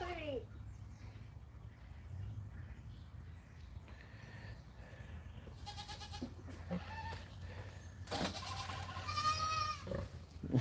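Baby goats on a homestead bleat repeatedly in short, wavering cries, with one louder, close call near the end over a steady low background rumble.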